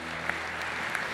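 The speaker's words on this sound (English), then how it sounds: "Let's give them all a round of applause." Audience at a Santa Barbara teacher-salute event applauding for the sponsors, a brief, even patter of many hands clapping at moderate distance with a couple of sharper claps standing out.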